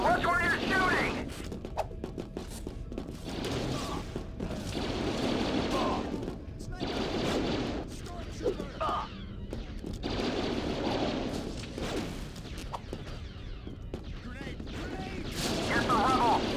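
Blaster fire crackles in bursts in the 2005 game Star Wars: Battlefront II, with booms and mechanical clatter across a busy battle, and voices shouting in between.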